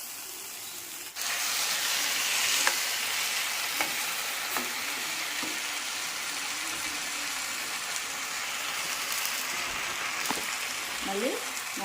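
Okra frying in a pan, a steady continuous sizzle with occasional stirring scrapes, close and even throughout after a sudden rise at the start.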